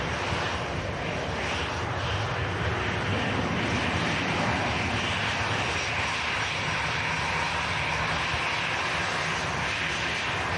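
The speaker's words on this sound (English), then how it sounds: "In from Pisa, this Airbus A320 with EasyJet." An EasyJet Airbus A320 at Manchester Airport roars with a loud, steady, broad engine rumble that lasts throughout, close and with no breaks.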